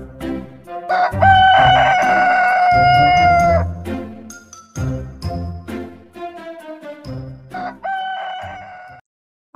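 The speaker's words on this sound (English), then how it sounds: "H for hen." A rooster crows loudly in a long, close cock-a-doodle-doo, followed by a hen's rapid, choppy clucks, then a second shorter crow near the end.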